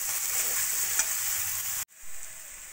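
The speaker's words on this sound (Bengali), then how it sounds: "পেঁয়াজ টমেটোটাকে ভালো করে ভাজা ভাজা করে নেব" Onion and tomato with a little salt and turmeric fry in a pan, giving a steady, even sizzle that stays close and continuous, broken only by one brief drop near the end before resuming.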